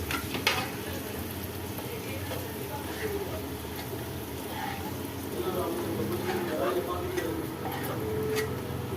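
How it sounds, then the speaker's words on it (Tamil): Okra kurkure deep-frying in hot oil, a steady bubbling sizzle with occasional stirring clicks and a faint voice in the background. "இது நல்லா ஃப்ரை ஆகட்டும்"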